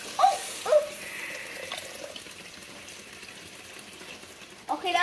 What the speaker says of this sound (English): we're just going to keep adding water until you get to the level right about here